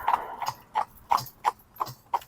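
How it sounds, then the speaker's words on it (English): Young horse's hooves clip-clopping closer on the ground in a steady walking rhythm, seven distinct footfalls, fairly near and clear, with no talk over them. "this horse is just coming now"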